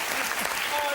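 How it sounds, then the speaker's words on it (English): Studio audience applause on a Christmas episode of a TV music quiz show, a brief burst of dense clapping with voices mixed in. "So can I have another round of applause for these?"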